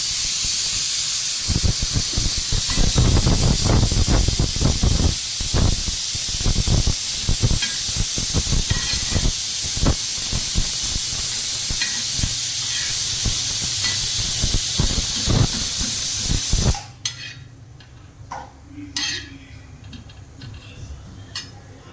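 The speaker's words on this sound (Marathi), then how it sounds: "शेगडी लावली, मोठी शेगडी, जेणेकरून डाळ चांगली शिजेल मोठ्या पातेल्यात" A large stove burner roars under a big pot of dal being cooked in bulk for a village feast, a loud steady hissing rush that cuts off abruptly near the end, leaving quieter background sounds.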